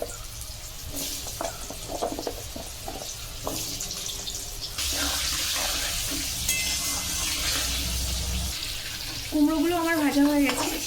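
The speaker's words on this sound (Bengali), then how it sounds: "একই পদ্ধতিতে কুমড়োগুলো আমি ভেজে নিচ্ছি" Pumpkin pieces fry in hot oil for a fish-head chhyachra, a steady close sizzle with clattering stirring and kitchen noise, growing louder partway through, with a bright clinking rattle near the end.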